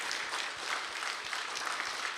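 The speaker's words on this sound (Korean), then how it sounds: "그 하나님께 영광과 감사의 박수로 올려드리도록 하겠습니다." A church congregation applauding during a Sunday worship service, a steady, even wash of many hands clapping at moderate distance with no break.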